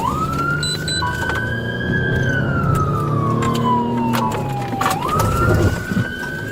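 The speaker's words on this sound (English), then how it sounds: "Emergency lights and sirens were activated as patrol units chased him westbound" Police patrol car siren wailing during a high-speed pursuit, a loud continuous sweeping tone that rises and falls with engine and road noise underneath.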